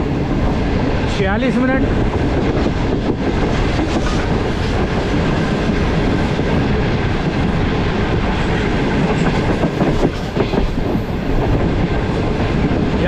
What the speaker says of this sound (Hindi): रेलवे स्टेशन के करीब कुछ स्पीड स्लो कर दी गई है ट्रेन की